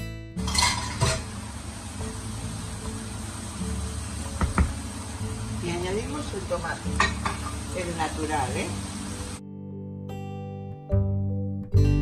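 A frying mixture for eggplant and bolognese lasagna is stirred continuously in a pan, with a steady sizzle under repeated scraping strokes and scattered clinks that cuts off near the end, leaving a quieter tail with a few knocks.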